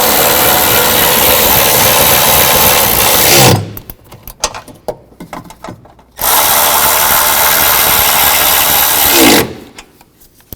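A ratchet or power tool runs loudly as it tightens engine mount nuts on a 2009-17 Chevy Traverse, passenger side. There are two long, steady bursts of whirring with a stretch of scattered clicks and clanks between them.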